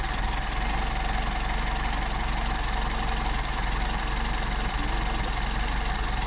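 A carbureted engine idles with a steady, loud, even rumble and a faint knocking pulse, running close and unchanging throughout with no voices.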